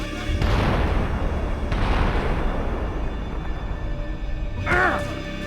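Gunfire in the game Max Payne 3, heavy bursts and booms over a dense noisy battle bed, with a voice shouting briefly near the end.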